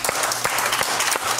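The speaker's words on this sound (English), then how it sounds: "give the Lord a hand clap this morning" A church congregation claps together in brief, dense applause at a Sunday service, close and steady throughout.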